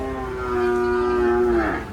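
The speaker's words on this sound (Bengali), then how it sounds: "সবগুলো হলিস্টিয়ান ফ্রিজিয়ান জাতের গরু" A Holstein Friesian cow at the Gabtoli cattle market gives one long, close, loud moo that holds a steady tone before sliding down at the end, with faint market noise underneath.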